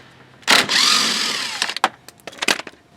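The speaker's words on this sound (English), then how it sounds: "if I take this bolt out right here" A 10 mm bolt is backed out of a car bumper cover with a tool: a loud, near, roughly one-second whirring burst, then several short clicks and clatters.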